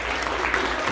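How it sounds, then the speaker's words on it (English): A burst of audience applause fills this short moment at a student delegates announcement ceremony, a dense continuous clatter of hands at steady volume, with cheering voices blended in. "So round of applause for all."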